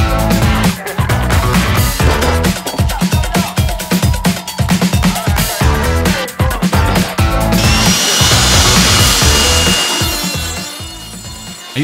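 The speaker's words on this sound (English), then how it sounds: "I used a trim router with a straight bit to hog out most of the material for these inlays" A trim router fitted with a straight bit routing out recesses in wood for tile inlays, loud and close, the whining cut pulsing in rapid bursts as it moves, then a steadier high whir near the end.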